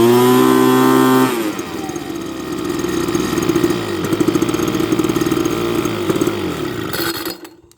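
A small two-stroke leaf blower engine, just repaired with a carburetor clean and new fuel lines, starts up loud, falls from a high rev into a rough, buzzy run, then cuts out and stops.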